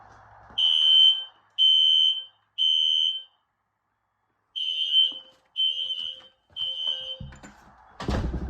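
A fire alarm blares during a system test in repeated loud, high-pitched bursts, three then a pause, then three more, followed by a clattering noise at the end.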